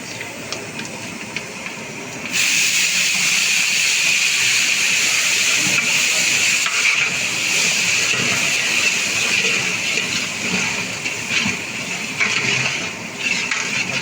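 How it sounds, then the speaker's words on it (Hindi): Onion, tomato and ginger-garlic paste dropped into hot browned masala for a large 10 kg batch of chicken yakhni pulao, bursting into a loud, steady, roaring sizzle after a couple of seconds and hissing on continuously up close. "ये हमने अभी प्याज और टमाटर और लहसुन अदरक पेस्ट जो बना हुआ था वो डाल दिया।"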